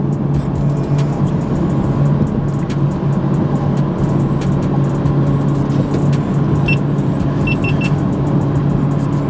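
A 2021 BMW M440i pulls away from a stop, its engine and road noise forming a loud, steady drone from inside the cabin, with a few faint chimes near the end.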